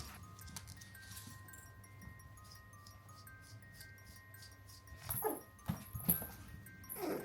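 Two young dogs whimper and yip in a home at night, soft whines at first under a steady low hum, then sharper short yelps and barks bunching up toward the end.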